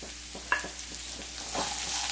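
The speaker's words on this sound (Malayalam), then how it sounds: "ഒന്ന് മിക്സ് ചെയ്ത് കൊടുക്കാം" Grated carrot fries in a pan for cabbage rice and is stirred, making a soft steady sizzle broken by several light scraping strokes and one sharper clack.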